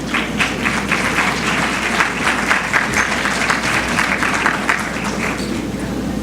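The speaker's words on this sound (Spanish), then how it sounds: "les agradezco a quienes aplaudieron" Steady, loud applause fills the hall at a medical conference on microbiota as an audience welcomes a doctor to the podium, the clapping dense and unbroken throughout.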